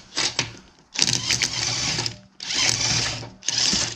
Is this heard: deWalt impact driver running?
yes